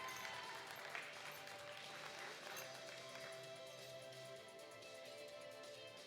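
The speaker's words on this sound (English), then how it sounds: "Yes, we can make applause, of course." Applause at a classic powerlifting medal ceremony during a European university open cup, steady spectator clapping at moderate distance with a roomy hall sound, continuing evenly throughout.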